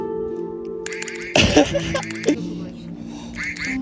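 A toy duck lets out a few squeaky quacks against a steady tonal background hum, loud and close.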